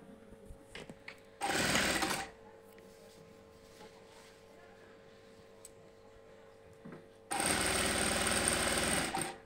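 A sewing machine stitches the pocket opening of a cotton housecoat in two close bursts, a short run of under a second and a longer steady run near the end, with quiet handling and a low hum between.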